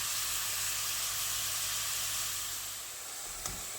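Minced meat frying in a pan, a steady broadband sizzle and hiss that holds close and fairly loud throughout, easing slightly near the end with a small tap.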